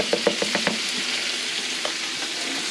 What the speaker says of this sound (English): we're gonna start by sauteing some pork